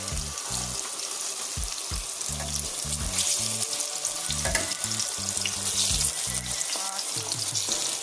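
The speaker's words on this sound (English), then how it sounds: "I'm frying the plantain right longer" Plantain slices fry hard in hot oil, making a loud continuous crackling sizzle with busy spattering throughout, while low rhythmic thumps run underneath and no one speaks.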